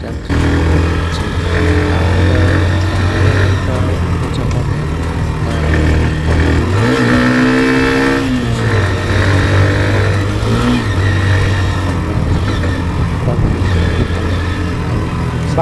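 A Hero Xtreme 125R motorcycle pulls hard in second gear, its engine note climbing steadily with a brief dip and recovery mid-run, loud and close throughout with continuous road and wind noise and no talking.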